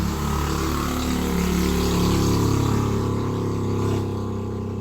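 Dani's motorcycle engine runs with a steady, low, humming drone that holds at an even level throughout, close by and without speech.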